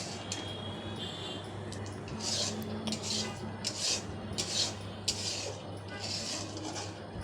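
Kheer of milk and sugar thickening in a pan is stirred with quiet, repeated scraping and rubbing strokes against the pan, soft and close, with small wet squelches between them.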